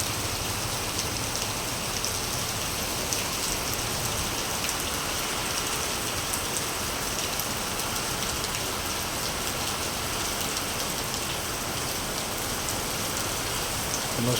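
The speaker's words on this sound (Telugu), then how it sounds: "ఈరోజు ఈవినింగ్ చాలా పెద్దగానే పడుతుంది వర్షం." Heavy Sunday evening rain falls in a steady, unbroken roar for the whole stretch, broad and close with no voices or breaks.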